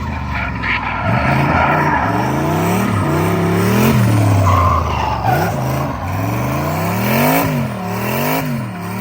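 A modified car pulls hard in third gear through a tight keyhole turn, its loud engine revving up and down continuously with rising and falling pitch, close to the microphone.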